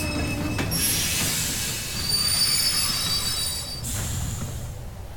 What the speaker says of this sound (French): Le train va entrer en gare.